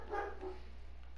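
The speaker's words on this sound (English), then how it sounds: "Sorry about my dog, guys." A dog gives one short, faint bark at the very start, then quiet room noise follows.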